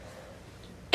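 A single short, sharp cough or throat clear from a person with allergies breaks through at the very end, after near silence.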